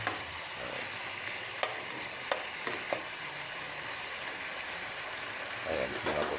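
Beef for nilaga sautéing in its own rendered fat, a steady close sizzle with a few sharp scrapes of a spatula and brief stirring sounds near the end.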